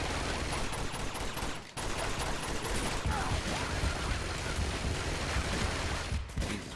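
Sustained enemy gunfire in the video game Uncharted 2, dense and continuous with brief gaps, loud throughout.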